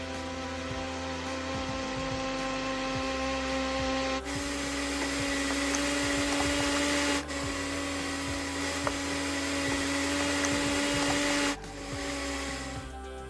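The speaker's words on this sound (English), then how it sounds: "Add all the ingredients to the food processor and blend." A food processor blends Jamaican jerk chicken marinade ingredients, including black pepper and sugar, with a loud steady whirring motor. It runs in several continuous stretches, its pitch shifting slightly between them.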